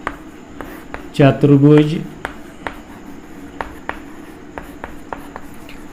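A maths solution for a class 8 geometry exercise being written out: sparse, sharp scratching taps of writing strokes, close by, with a short spoken word partway through.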